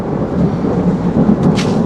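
Thunder from an approaching thunderstorm front during rain near Luhansk: a continuous low, heavy rumble rolls loud and steady throughout, with rain noise mixed in and no talking.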